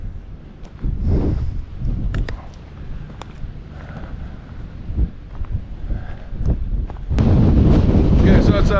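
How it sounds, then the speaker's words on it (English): Strong gusting wind buffets the microphone on the exposed rim of Echo Basin, roaring in waves with brief lulls and a louder, sustained blast near the end. "Okay, so it's gotten really windy."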